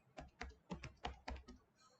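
Computer keyboard typing code, about eight distinct keystrokes in an irregular rhythm, fairly quiet and close, with no talk over them.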